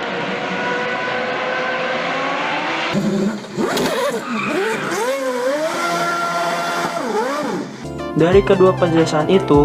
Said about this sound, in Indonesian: Ini salah satu mesin V8 Honda yang berkompetisi ajang Super GT.